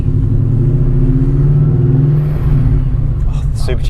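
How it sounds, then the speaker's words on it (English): Supercharged BMW E39 M5 with an S62 engine, which is not building boost, revs while driving, giving a steady low engine rumble that swells and eases throughout. People talk over it. "Oh, the Supercharger sounds so cool."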